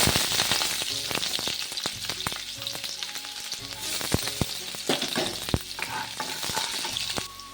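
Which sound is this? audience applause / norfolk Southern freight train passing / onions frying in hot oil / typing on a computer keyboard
onions frying in hot oil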